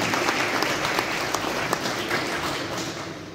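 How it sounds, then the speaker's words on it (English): A hall full of people at the announcement of Kenya's 2022 Senate results applauds Jubilee Party candidate Mark Kirwa, a loud, continuous roar of clapping that holds steady throughout and fades slightly near the end. "Applause for him."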